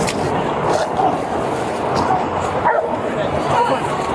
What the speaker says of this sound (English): Dog in, dog in.